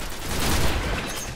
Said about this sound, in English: Too many explosions for one day!